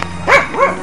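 Two dogs bark in quick succession, a pair of sharp, fairly close barks about a third of a second apart, with no talking.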